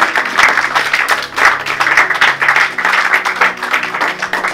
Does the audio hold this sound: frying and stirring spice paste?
no